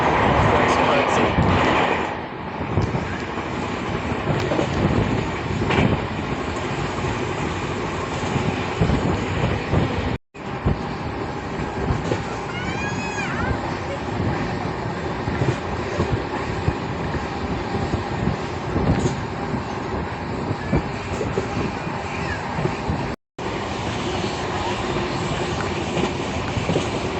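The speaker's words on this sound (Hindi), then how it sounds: "गाइस अब देखो पहाड़ों के बीच में से कैसे चलेगी हमारी मालवा सुपरफास्ट एक्सप्रेस।" The Malwa Superfast Express runs through hilly country, a loud continuous rumble of rolling wheels and rattling carriages with faint rhythmic clacking, steady throughout apart from two brief dropouts.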